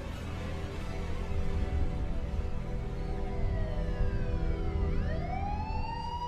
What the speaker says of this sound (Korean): 구세주 같은 경찰차 사이렌 소리.